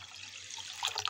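Water runs and splashes steadily, growing louder and more turbulent toward the end, as water is poured over soaking rice in a container.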